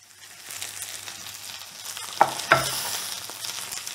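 Onions for a tartiflette sizzle in a hot pan. The frying hiss swells gradually, and two sharp clacks of a stirring utensil against the pan come in quick succession midway.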